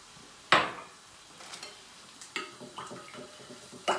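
An egg and milk mixture for potato börek is stirred in a bowl, giving sharp clinks and scraping taps at irregular intervals, close and moderately loud, with no talking.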